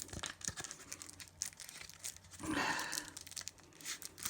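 Plastic wrap crinkles and tears off a thin pack of Vaesen game cards, with a louder, fuller crumpling burst in the middle among softer rustles, close and quiet.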